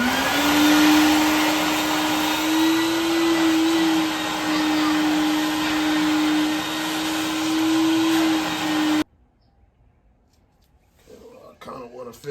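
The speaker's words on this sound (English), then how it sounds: "Gonna have to vacuum that out." A loud, steady vacuum cleaner drone with a whining tone, sucking broken spark plug porcelain out of an engine cylinder, runs for several seconds, then cuts off abruptly, leaving faint rustling.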